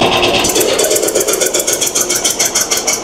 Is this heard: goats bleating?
no